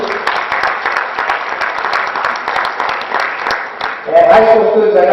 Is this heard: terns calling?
no